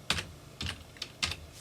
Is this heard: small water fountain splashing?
no